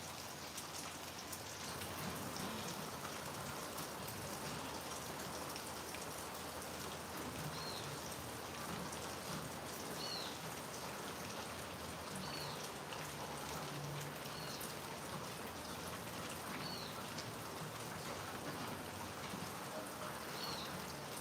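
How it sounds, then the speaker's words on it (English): Steady rain falls on outdoor surfaces, a dense even patter of drops that runs unbroken throughout, with a faint bird call now and then in the background. "it's raining on them again"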